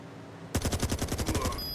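Rapid automatic gunfire in a video game bursts in after a brief quiet, a fast, evenly spaced rattle of shots continuing for over a second at moderate level.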